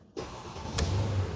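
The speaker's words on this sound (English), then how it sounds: "But we can start the car briefly." A 2011 Mercedes W212 E 550 Sport sedan with a 382 hp V8 starts up, with a sharp crank burst followed by a low, steady idle rumble close by.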